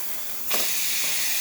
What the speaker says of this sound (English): Nice steady steam, excellent steam.